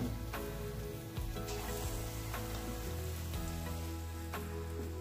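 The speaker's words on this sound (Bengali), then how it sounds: "দেখো কলার বড়া ভাজা হচ্ছে এখন।" Banana fritters frying in hot oil, a continuous soft sizzle and crackle with occasional low clunks of utensils, fairly quiet and with no speech.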